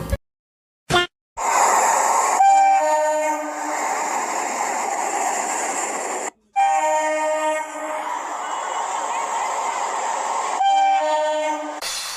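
A train pulls into a station on Holi day, sounding long sustained horn blasts over steady rumbling wagon noise. Two brief breaks cut the continuous, loud roar.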